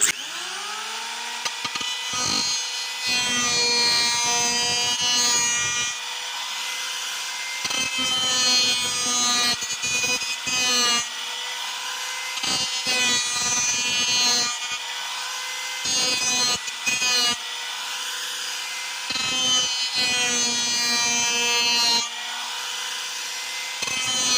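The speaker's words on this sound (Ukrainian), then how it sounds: "І зараз буду працювати електрорубанком." An electric hand planer runs steadily across a wooden beam for sauna shelves, its motor whining with repeated passes and brief pauses between them. Close and loud, with no voices.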